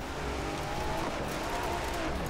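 A Hennessey VelociRaptor 6x6 drives in Forza Horizon 4, its engine holding a steady, loud roar through a corner with a faint tire scrub beneath it.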